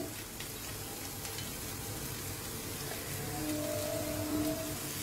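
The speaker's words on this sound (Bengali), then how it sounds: "দিয়ে দিচ্ছি ফুলকপিটা পেঁয়াজের সঙ্গে একটু হালকাভাবে ভাজা হয়ে যাবে।" Cauliflower frying lightly with onions and chopped ginger in a pan, a dense continuous sizzle and crackle held close and steady throughout, no voices.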